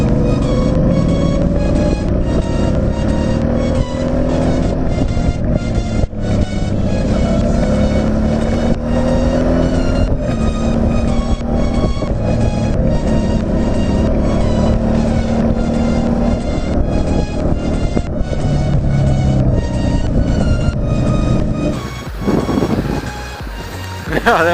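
Motorcycles including a Harley with fairly stiff suspension ride over a rough stretch of road, a steady loud engine drone mixed with heavy wind rush throughout, easing near the end.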